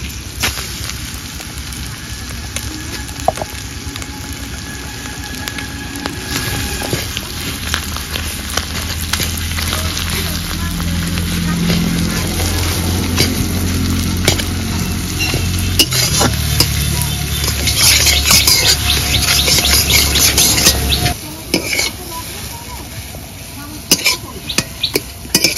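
Ground taro leaf paste is stirred over fried fish in a pan, with steady scraping and clinking of a spoon against metal under a soft sizzle, continuing for most of the stretch before easing off near the end.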